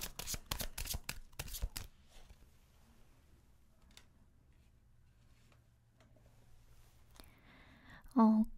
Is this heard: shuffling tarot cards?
yes